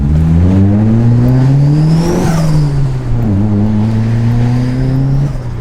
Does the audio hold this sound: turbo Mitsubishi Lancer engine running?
yes